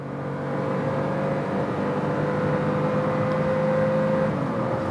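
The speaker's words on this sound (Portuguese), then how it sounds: "Primeiro vamos estabilizar em 60 e agora vamos pisar tudo." Steady engine drone from a 2023 Hyundai HB20S or Honda City, top trim, under full throttle from about 60 km/h, rising slightly in pitch with quick gear changes and climbing speed; continuous, loud and close, heard from inside the cabin.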